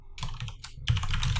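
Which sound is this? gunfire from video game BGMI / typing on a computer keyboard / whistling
typing on a computer keyboard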